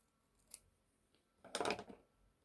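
Scissors trimming a paper name label for a journal, a faint short snip followed by a louder, close crisp cut lasting about half a second in a quiet room.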